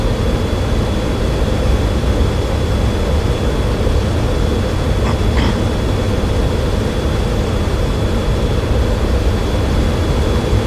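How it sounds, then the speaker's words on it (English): Steady, loud broadband roar of an F-16 fighter jet engine in flight at high power, a continuous rushing drone filling the whole stretch without a break, no voices. "We're obviously pushing this airplane as hard as it can fucking go."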